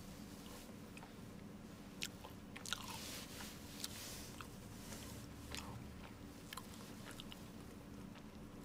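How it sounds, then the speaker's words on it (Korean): Someone eating a snack, a fish-shaped pastry, at close range: quiet, soft chewing with small crunches and bites, scattered and faint over a low background hum, with no talk. "ATG에서 쩝쩝 박사를 먹고 있습니다."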